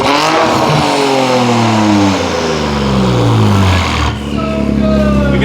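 Straight-piped, turbocharged Nissan 400Z engine revving loudly up close, rising and falling in pitch through a couple of sustained blips with a brief dip near the end, a voice faintly underneath.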